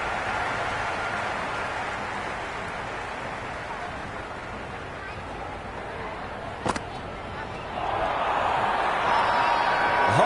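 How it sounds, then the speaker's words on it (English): Noisy cricket stadium crowd at an Australia vs Zimbabwe T20 World Cup match, a dense continuous roar that swells louder toward the end, with a brief sharp spike midway. "It's pretty noisy at the ground."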